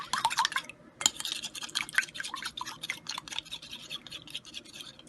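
Eggs and an extra yolk are whisked in a bowl for doughnut batter, giving quick, quiet scraping and clicking strokes with a faint wet patter in a steady rhythm.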